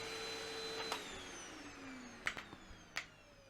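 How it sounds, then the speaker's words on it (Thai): A vacuum cleaner motor whines and then winds down with a falling pitch, followed by a few sharp clicks and knocks in a quiet room. "แล้วก็ปิดเครื่องดูดฝุ่นเปลืองไฟ ปิดพัดลม"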